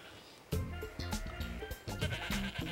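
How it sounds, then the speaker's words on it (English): Several goats and sheep bleat one after another in quick, wavering calls, fairly close and clear over a quiet background. "the goats and sheep are going to eat everything we planted"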